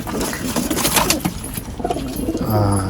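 In a pigeon loft holding king breed birds, a low coo rises near the end over a busy, rustling background of the flock, with no speech.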